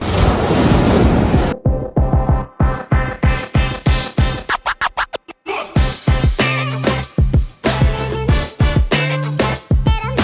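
Strong open-sea waves slap and churn around a one-seat kayak, with loud repeated splashes and gusty wind buffeting the microphone up close.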